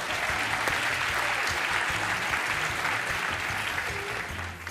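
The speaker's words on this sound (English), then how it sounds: "When it disappears, you all clap." Sustained audience applause from a conference crowd at a creative keynote, a dense, steady wash of many hands clapping at once that carries on evenly throughout and eases only slightly toward the end.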